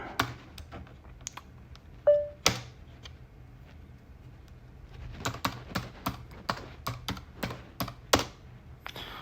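A computer keyboard is typed on close by in scattered bursts of crisp key taps with pauses between them, quickening into a busier run of clicks toward the end.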